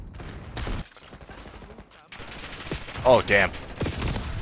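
Shotgun blasts in Call of Duty Black Ops 6 multiplayer: a few sharp, loud shots in quick succession over chaotic game noise, with a player's brief exclamation.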